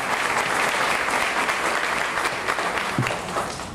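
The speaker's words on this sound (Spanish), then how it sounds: "Así que para ella un fuerte aplauso" Warm applause from an audience at a ceremony in Puerto Rico honouring Senator Velda González, a full, continuous wash of many people clapping that stays strong throughout and eases slightly near the end.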